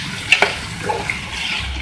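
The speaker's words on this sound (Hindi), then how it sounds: "इसके बाद हम इसमें ऐड करेंगे टमाटर और इनको हम सॉफ्ट कर लेंगे।" Tomatoes sizzling and frying in a pan for arvi karahi, with a few scraping stirs of a spoon over a steady close crackle.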